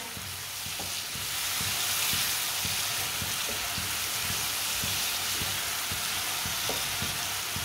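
Tomatoes sizzle and fry steadily in a pan for turnip curry, with a spoon scraping and stirring through them in irregular strokes, close and continuous with no talking.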